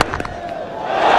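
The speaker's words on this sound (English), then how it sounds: "Filthy delivery, smashed away by Anderson to huge cheers from this Welsh crowd" A Welsh crowd at a cricket match roars in a loud, close swell of cheering that builds toward the end after a sharp hit at the start.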